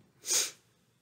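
A single short sniff or snort, close to the microphone, lasting under half a second in an otherwise quiet setting.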